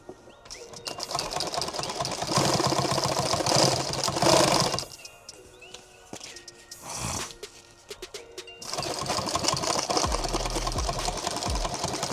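A sewing machine runs in long, steady bursts of rapid mechanical chatter, tacking a seam across a modular load-bearing vest, with a quieter pause of fabric handling in the middle.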